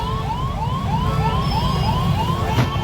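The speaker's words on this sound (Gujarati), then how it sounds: "બસની પાછળ એમ્બ્યુલન્સ છે ઠીક." An ambulance siren wails in rapid repeated upward sweeps, loud and near, over low traffic rumble.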